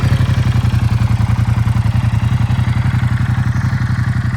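A 2017 Ducati XDiavel S, a stock belt-driven motorcycle, running close and loud with a steady rapid throbbing engine pulse and no talk over it.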